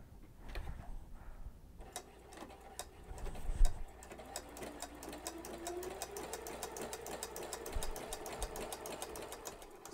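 A sewing machine with a flower stitch foot runs steadily, its rapid rhythmic ticking stitches continuing close and clear throughout with no talking.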